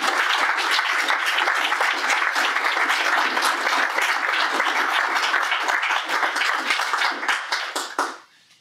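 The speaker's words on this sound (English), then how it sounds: "Clap it up for him." A crowd at an evening political mixer applauds loudly and steadily, a dense wash of clapping that holds for about eight seconds before quickly dying away.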